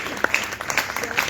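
A church congregation at a worship service in Faisalabad claps hands together, a brisk burst of close applause with a voice speaking over it.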